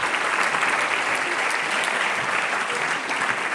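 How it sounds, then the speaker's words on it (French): Steady, loud applause from a large audience at a business awards evening, a continuous dense wash of clapping with no gaps and no talk. "Sous vos applaudissements."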